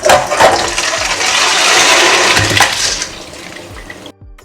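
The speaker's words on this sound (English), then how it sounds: "so I'll go ahead and sieve out the water" Rinse water from washed rice pours out through a sieve, a loud steady rushing drain that fades and ends in silence after about four seconds.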